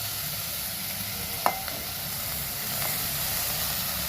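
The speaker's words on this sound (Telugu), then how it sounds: "ఈ తురుమంతా వేసేసి కాసేపు కలపాలి." Grated red carrot for gajar halwa stirred in a pan, giving a steady, moderate sizzle and hiss with one sharp utensil click partway through.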